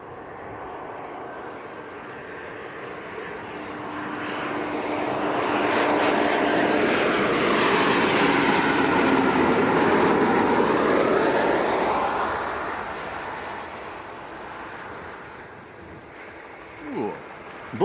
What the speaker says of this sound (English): That's KLM from Amsterdam, Embraer E190.